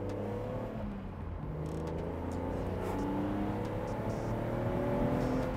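A BMW Z4 M Roadster drives along a road, its engine droning steadily and building gently under acceleration, the note rising slightly toward the end with faint wind and road noise.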